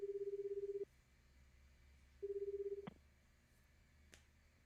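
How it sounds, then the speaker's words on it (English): Cell phone keypad tones dialed in 428: Shibuya Scramble, a rapid run of beeps, a pause, then a second quick run, clear over a faint quiet background with a few soft clicks. "took out his cell phone. He made a call to his superior"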